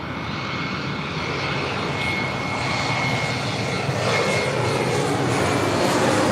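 Jet engines of an airliner arriving at LAX roar steadily and loud, a broad continuous rumble that builds slightly over several seconds with no talk.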